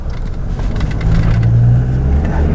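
A Toyota Hilux with rebuilt rear suspension drives along, its engine a steady, close, low drone that swells slightly midway and holds without any talk.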